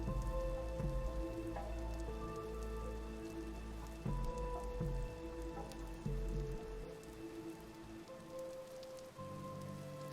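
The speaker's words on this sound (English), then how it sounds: "Despite walking into heavy rain to your new workplace" Heavy rain pours steadily in a video game, a dense even hiss of drops on surfaces carried over a low droning game soundtrack with faint tonal notes.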